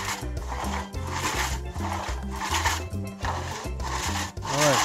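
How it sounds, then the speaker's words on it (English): A two-man pit saw cuts through a log in a steady back-and-forth rhythm of rasping wooden strokes, close and clear, with no talk. "This saw is called pit saw."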